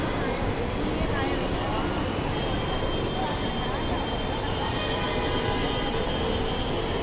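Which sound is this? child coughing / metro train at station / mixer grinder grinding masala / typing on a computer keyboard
metro train at station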